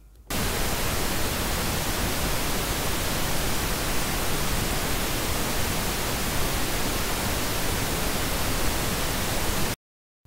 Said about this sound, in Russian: Вот я загружаю обычный розовый шум.